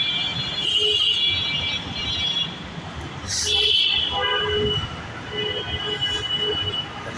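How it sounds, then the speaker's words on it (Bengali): A metro rail train passes at Agargaon with a loud, close rumble of rolling wheels and a sustained metallic squeal, the roar swelling, dipping briefly and building again. "metro rail হাজারগাঁও metro rail"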